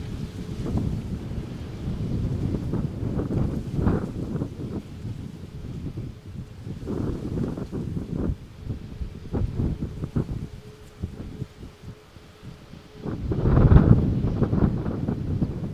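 Strong, gusty wind buffeting a microphone beside an outside broadcast van at Malaga Airport on a stormy, dusty morning by runway 13: a steady low roar that rises and falls, swelling loudest near the end.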